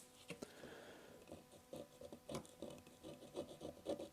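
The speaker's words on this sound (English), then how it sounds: "I'll gently scrape over the material here" A plastic razor blade gently scrapes mixed latex and oil-based paint drips off an old wooden stool, giving faint, close rasping strokes in a quick irregular rhythm.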